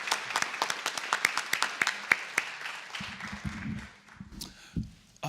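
Sparse applause from a small audience at a county political forum, with distinct individual claps spaced out over a few seconds before a voice starts talking and the clapping dies away.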